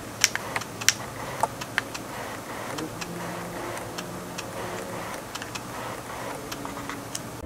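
Autofocus motor of a Canon EF 24-70mm f4 USM lens, faint irregular clicks and ticks scattered over a quiet hiss, close and soft.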